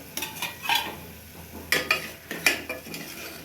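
Coriander, chili and cumin powders being stirred into frying mutton curry, a close series of scraping spoon strokes against the pan in uneven bursts over a soft sizzle.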